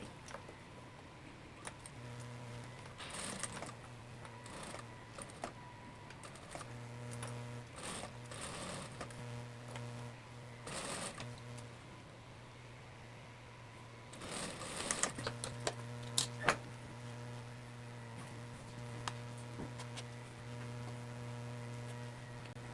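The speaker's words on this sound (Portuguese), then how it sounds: "já alfinetei tudo desse lado de cá e agora eu vou costurar." A sewing machine stitches a pleated Oxford skirt in repeated runs, its low steady motor hum and rapid needle chatter starting and stopping, broken by brief clicks and handling noises at close range, no voices.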